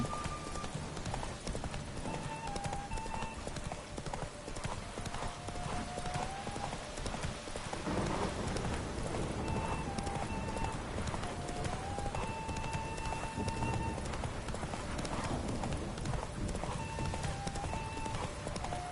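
Video game horse galloping, a rapid steady clip-clop of hooves running continuously throughout, with occasional tonal game sound effects layered on top.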